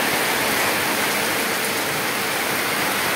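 Rain falls steadily in front of a pigeon house, a dense, even hiss close by and alone.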